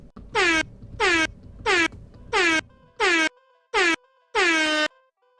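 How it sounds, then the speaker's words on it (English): Six loud blasts of a distorted air horn, each about half a second with short silences between, the last blast held a little longer. "I made it the most cursed air horn."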